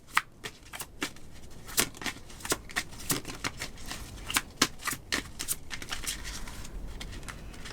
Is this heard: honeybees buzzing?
no